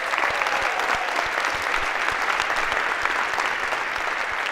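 Sustained applause from a lecture hall audience at a university computer science course's final session, dense steady clapping at even loudness throughout with no voices over it.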